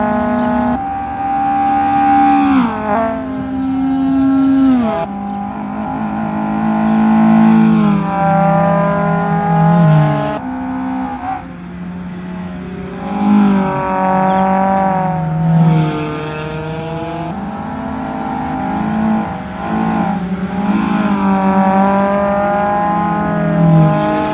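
Group N series race cars, among them an Opel, scream past on a circuit one after another, their engines rising and falling in pitch as they accelerate, shift and pass close, loud and continuous.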